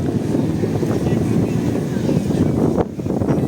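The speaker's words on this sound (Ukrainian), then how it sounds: "у Львові вітряно" Steady rumbling wind buffets the microphone outdoors in Lviv throughout, a loud low roar with a brief dip near the end.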